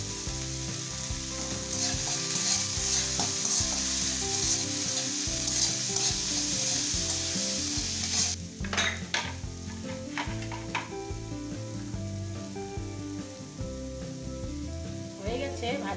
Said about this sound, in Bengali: হয়ে গেছে ভাজা পেঁয়াজ আর ক্যাপসিকাম